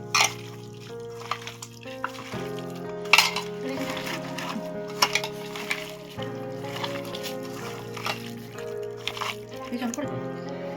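Chicken being mixed by hand with salt, mustard oil and chopped coriander in a bowl, with wet squelching and occasional clinks against the bowl under steady talking.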